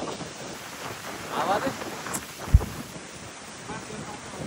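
Strong mountain wind roars and buffets the microphone on a hiking trail, a continuous rough rumble with gusting swells and a sharp low thump, loud and close.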